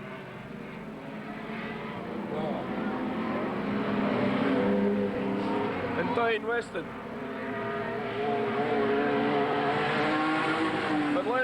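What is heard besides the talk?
race cars passing at Redline Raceway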